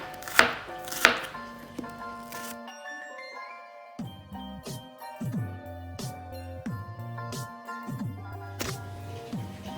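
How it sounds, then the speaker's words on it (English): A knife chops rapidly on a cutting board in quick bursts of sharp taps, while soft music plays in the background. "this is the final result of chopping shallots and garlics"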